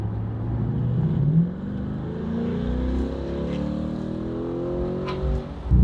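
A 2020 Corvette with an aftermarket exhaust revs hard from inside the car, a loud sustained engine drone rising and falling, with a faint pop near the end.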